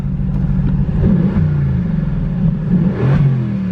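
A throaty 2020 Aston Martin Vantage AMR engine revs repeatedly nearby in sport exhaust mode, its deep exhaust note rising and falling in quick surges.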